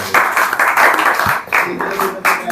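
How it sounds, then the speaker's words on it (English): Students in a spoken-English class clap together in a few bursts, loud and close, with talking mixed in around the clapping. "Clapping."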